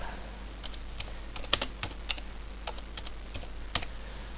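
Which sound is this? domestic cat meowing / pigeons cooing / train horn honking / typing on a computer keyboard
typing on a computer keyboard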